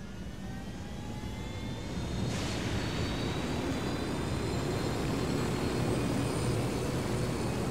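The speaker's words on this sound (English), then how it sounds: "Let's get in the helicopter." Helicopter in the video game Ghost Recon Wildlands, a steady loud rotor and engine drone with a whining turbine tone that swells and holds level after a couple of seconds, with no talking.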